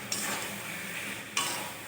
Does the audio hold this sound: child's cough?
no